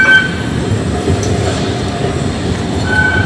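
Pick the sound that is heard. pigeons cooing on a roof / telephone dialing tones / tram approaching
tram approaching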